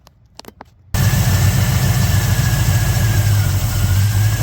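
A car engine just fitted with a swapped carburetor catches and settles into a loud, steady idle with a low rumbling throb, after a few faint clicks at the start.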